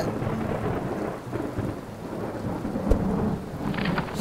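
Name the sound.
rain falling with thunder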